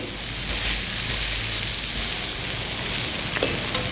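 Besan (gram flour) dosa cooking on a hot pan gives off a steady, close sizzle of frying batter that holds without a break, with no one talking.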